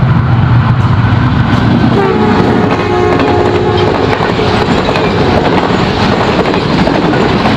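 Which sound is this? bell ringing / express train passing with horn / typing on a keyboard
express train passing with horn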